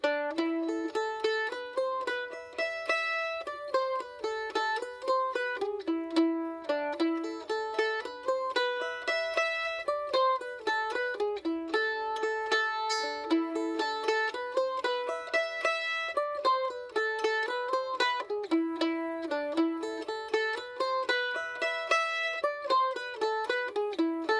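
Mandolin playing the A part of a jig, a steady lilting stream of bright picked notes in triplet rhythm, continuous and close with no voices.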